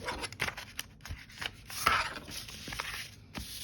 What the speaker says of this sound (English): I'm going to bring this in here and use my bone folder